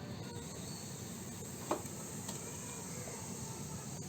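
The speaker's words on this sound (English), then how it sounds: "Just leaving them to simmer for some time." Pot of Pindi chole chickpeas simmering, a soft steady bubbling hiss at low level with one faint brief tap partway through and no talk.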